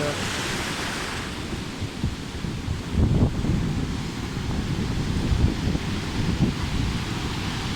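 Pacific surf churns against rocky shore under steady wind buffeting the microphone, a broad continuous roar with a few heavier wave surges swelling midway.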